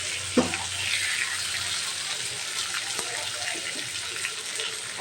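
Chopped tomatoes fry in a pan for a fish and potato curry, giving a continuous hissing sizzle at moderate loudness. A brief knock sounds near the start, and no voice is heard.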